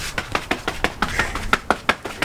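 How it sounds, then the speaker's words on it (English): Quick, irregular footsteps patter and thud nearby as someone scurries around, a rapid series of light impacts with no talking. "That's the sound of me running around."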